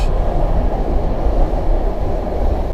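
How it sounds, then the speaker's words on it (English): Northbound Metrolink Orange County Line train passing near the beach at San Clemente Pier, a steady, loud low rumble of rolling wagons sustained throughout without talk. "That's the northbound Orange County line to LA."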